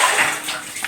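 Water runs from a tap in a brief, close, hissing splash that pours steadily for about a second with no talking.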